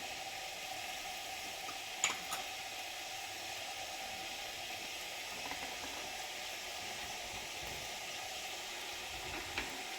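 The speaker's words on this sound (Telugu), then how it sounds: "ఇది ఆల్రెడీ ఆయిల్ హీట్ ఎక్కిందండి. ముందుగా మనం మినపప్పు వేసుకుందాము." Urad dal frying in hot oil in a pan makes a steady, even sizzling hiss throughout, with a few faint pops and no voices.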